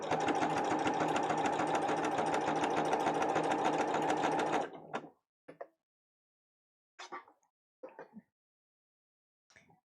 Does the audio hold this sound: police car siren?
no